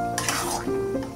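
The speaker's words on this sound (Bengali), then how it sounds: "এখন ভালো করে আমি নেড়ে নিচ্ছি" Boiled dal is stirred in a pot with fried spices for egg tadka, giving short scraping strokes and a gentle simmering sizzle heard up close.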